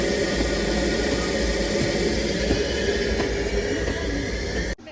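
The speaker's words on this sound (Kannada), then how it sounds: "Toy train." An old Darjeeling toy train runs along, giving a steady, loud rumble with continuous hiss and rail noise throughout, cutting off abruptly at the very end.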